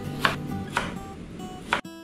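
A knife cutting lemons on a board: three sharp, separate chops spaced unevenly, close and clear in a quiet kitchen.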